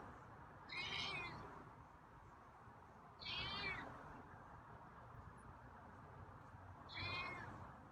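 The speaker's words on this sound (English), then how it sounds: "Got quiet meows today." A feral cat meows softly three times, evenly spaced, against a faint hiss of background noise.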